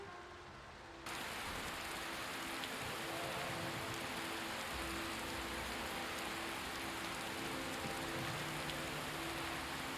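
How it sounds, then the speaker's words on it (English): Steady rainfall over a Skyrim landscape near Riverwood, a dense, even hiss that begins abruptly after a brief quieter moment and continues unbroken at moderate level, with no voices. "It's raining outside."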